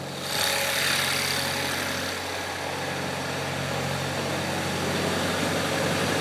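A car engine idles steadily with a constant low hum and faint vibration, unchanging and close, with no talking.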